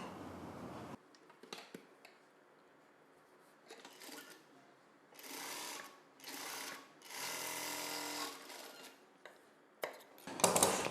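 A sewing machine stitches blouse fabric in several bursts of rapid mechanical whirring, close up, separated by quiet pauses and small handling clicks.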